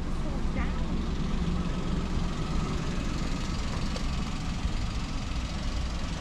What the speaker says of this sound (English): Citroen C1. Lawnmower engine.